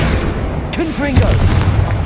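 A Confringo blasting spell in Hogwarts Legacy goes off as a loud booming burst within dense game noise, with a brief rising magical tone riding over the explosion.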